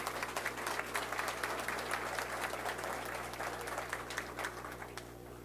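Warm audience applause for the Haitian National Police at a police graduation ceremony, steady crowd clapping over a low hum that fades slightly at the end.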